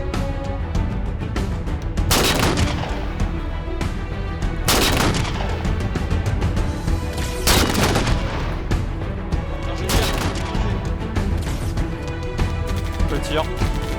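Gunfire in the Halo video game, sustained rapid shots with repeated heavy blasts over constant battle noise, loud and dense, with players talking over it.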